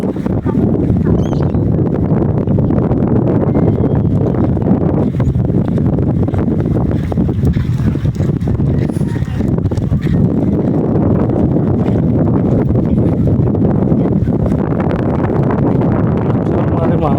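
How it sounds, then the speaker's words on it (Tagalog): Cold wind blows across a river dike, producing steady low buffeting rumble on the microphone with gusts rising and falling throughout. "Mga hangin dito. Lamig."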